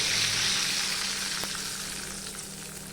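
Panch phoron spices sputtering in hot oil for a pumpkin greens dish, a loud, continuous sizzle and crackle close by that eases slightly over a few seconds, with no talking.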